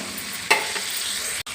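Cucumber pieces are tipped into frying tomato and stirred, giving a sudden burst of sizzle followed by a steady hiss and a brief stirring scrape near the end.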